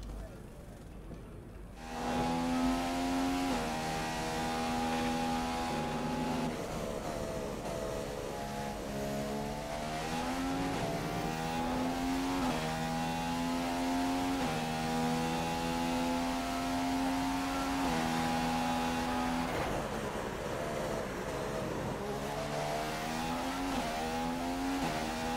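Formula 1 race car engine in the F1 2015 video game on a flying lap at Bahrain, a loud sustained high-pitched whine rising and falling through gear changes for the whole stretch.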